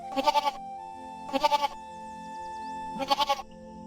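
Three short cartoon goat bleats, each a quick wavering burst, spaced about a second apart and heard alone against a quiet background.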